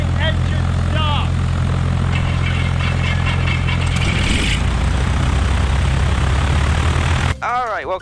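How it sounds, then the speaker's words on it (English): A light aircraft's propeller engine starts and settles into a loud, steady throbbing drone before cutting to a quieter scene where a person talks. "Remain clear of my propeller. I'm commencing engine start."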